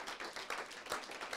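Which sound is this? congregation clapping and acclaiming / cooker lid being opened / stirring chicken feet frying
congregation clapping and acclaiming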